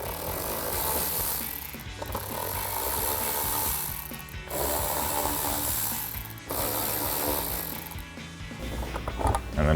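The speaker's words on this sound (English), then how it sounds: "So we just got a bunch of 7mm screws here holding that in. Take your 7mm socket and pull them out." A socket tool works loose a series of 7mm screws holding the rear diffuser on a 2024–2025 Mustang GT, giving close, steady ratcheting and mechanical clicking in repeated bursts with short pauses between, and no talk.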